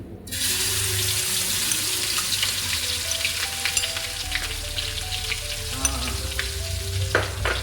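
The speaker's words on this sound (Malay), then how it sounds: "Kita masakkan tumisan dulu." Sambal belacan paste sautéing in a hot pan, a loud continuous sizzle and crackle with occasional scrapes of stirring.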